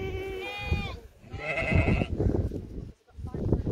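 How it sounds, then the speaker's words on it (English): Several Cheviot ewe lambs bleat in quick succession, wavering cries close by, with someone talking over and between them. "Glorious Chevet ewe lambs there."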